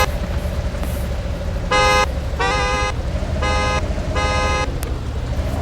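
A car horn in the Car Simulator 2 video game sounds four loud, steady honks of about half a second each, spaced unevenly over a continuous engine drone.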